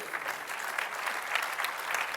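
An audience applauds steadily for a couple of seconds at a tech demonstration, a dense wash of many hands clapping at moderate loudness with no voices over it.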